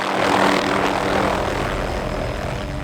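An aircraft drones steadily overhead above snowy woods during an aerial moose collaring hunt, a loud continuous propeller-engine hum with no pauses.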